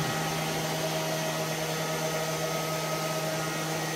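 A Neato Botvac robot vacuum cleaner runs nearby with a loud, steady motor whir and a constant low hum, unbroken for the full length with no talking.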